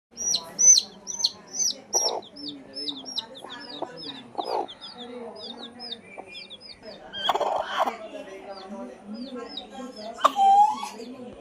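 Newly hatched chicks from a home hatching give rapid high peeps in a quick repeated series, with clucking hens and occasional talk in the background.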